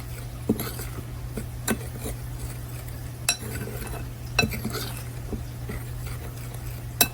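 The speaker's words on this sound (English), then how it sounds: "you just want to stir that all together very, very well" A spoon clinking and scraping as shrimp and oyster batter is mixed in a bowl, with intermittent sharp taps against the sides over a steady low hum, no one speaking.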